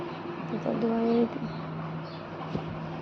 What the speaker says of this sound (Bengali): একটা ঘুঘু পাখি